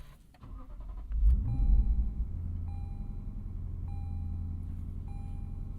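A 2020 Lexus RC F Track Edition engine cranks and fires, surging loudly before settling into a steady idle, while a repeating electronic warning chime sounds over it.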